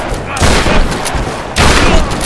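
Loud bursts of gunfire in the video game Tomb Raider crack and rattle in two heavy volleys, close and harsh, with a brief lull between them.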